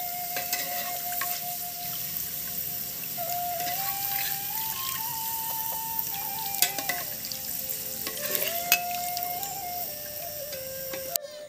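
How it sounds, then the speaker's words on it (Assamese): Thin homemade potato chips fry in hot oil, giving a steady close sizzle with occasional crackles and stirring clinks. A faint tonal whine drifts in the background. "এতিয়া আকৌ মই তেলতে তেনেধৰণে গোটেইখিনি মই আলু চিপ্ছ ভাজি ল'ম"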